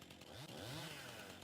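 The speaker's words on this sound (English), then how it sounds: "This is absolutely not recommended that you use a chainsaw like this at all." A revving chainsaw in Farming Simulator 19, a steady loud buzzing drone whose pitch dips and climbs through short sweeps as it cuts, filling the whole moment without any voice.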